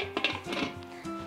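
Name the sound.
lid placed on cooking pan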